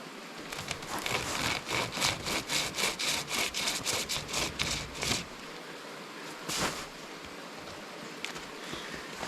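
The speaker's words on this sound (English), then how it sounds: "there was one thing that I really wanted to try out, and it was this hand chainsaw" A hand chainsaw drawn back and forth through a tree trunk outdoors, a fast, loud, rhythmic rasping of about a dozen strokes that then stops, followed by quieter rustling and one more brief scrape.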